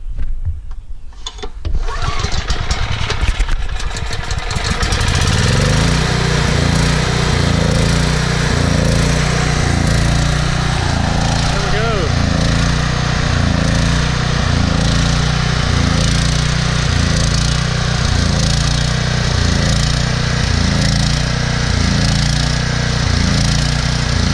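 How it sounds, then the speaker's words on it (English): A Troy-Bilt 8000-watt generator with a 15 HP Briggs & Stratton engine cranks with a rattling pull, then settles into a loud, steady, close running drone with a regular pulsing beat. "Let's see if we can start this without choking it"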